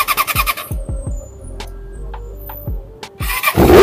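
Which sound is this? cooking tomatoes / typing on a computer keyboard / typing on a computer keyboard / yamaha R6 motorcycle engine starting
yamaha R6 motorcycle engine starting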